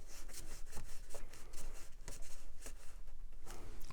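A paper flap is folded down and creased for a craft tag pocket, with steady close-up rubbing and scraping strokes in a quick, uneven rhythm throughout, and no voice.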